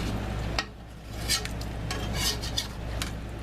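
Metal utensil scraping caked-on, stuck bits of meat from a hot cooking pan for an au jus, with repeated short scrapes and clinks over a steady low sizzle, and no talk.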